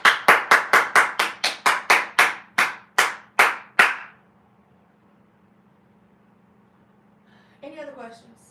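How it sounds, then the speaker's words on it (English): One person claps firmly and close up, about thirteen sharp claps in a quick, slightly slowing rhythm. Then comes near silence with a faint hum, and a voice briefly speaks at the end. "Clap before you leave."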